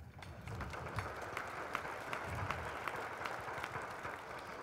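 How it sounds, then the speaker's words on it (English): An audience at a city's annual State of Our City event applauds its mayor: steady, even clapping from a large crowd, heard from a distance and lasting the whole stretch at a moderate level. "So applause to that, please"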